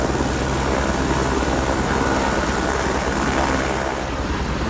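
A helicopter's rotor and engine drone steadily and loudly throughout, a dense thrumming roar with low pulsing beats, close by and with no voices.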